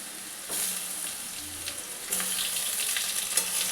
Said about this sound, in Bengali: প্রথমে বন্ধুরা কপিটা দিয়ে দিচ্ছি আমি।